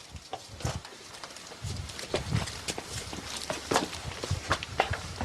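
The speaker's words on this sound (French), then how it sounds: "J'ai entendu des bruits de pas dans la maison." Footsteps inside a house during a nighttime ghost investigation: faint, irregular steps scattered through steady room noise, with a few louder knocks and thumps.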